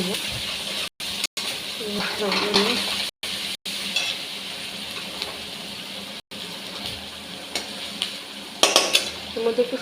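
Ginger garlic paste and spices being stirred in a pan over a soft sizzle, with scraping spoon strokes and metal clinks, close by, broken by brief gaps of silence.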